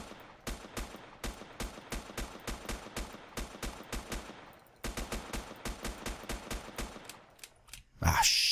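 Gunfire in the survival video game Next Day Survival: rapid evenly spaced shots in two long bursts separated by a short pause, loud and sharp, ending in a louder crack.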